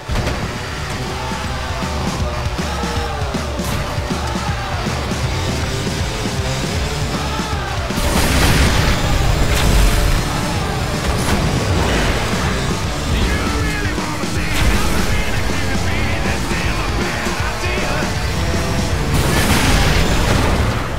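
Car crash explosion in the racing video game Asphalt Xtreme: a loud, dense boom and crunch burst about eight seconds in, over continuous engine roar and game music, with further impacts later.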